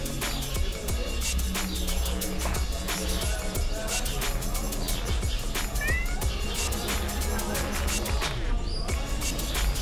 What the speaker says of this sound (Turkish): Bak şurada bir tane kedi gördüm.